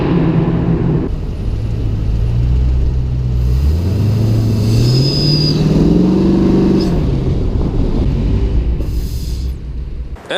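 A Dodge Charger Scat Pack fitted with an R2C cold air intake and muffler delete revs up loud and close, the engine note climbing and falling through several throttle blips before settling into a heavy idle rumble.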